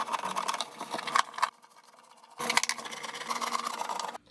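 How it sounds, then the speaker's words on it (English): Screws are driven out of a Hickok 6000 tube tester case with a whirring power driver, two close buzzing runs separated by a brief pause. "I'm going to remove the screws that prop up the broken side first"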